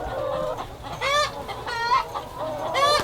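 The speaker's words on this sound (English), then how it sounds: "So what's in these giant coops or chicken tractors is egg layers." Flock of egg-laying hens in a large pasture chicken tractor holding about 350 birds, clucking and squawking in several loud rising calls over a steady background murmur of the flock.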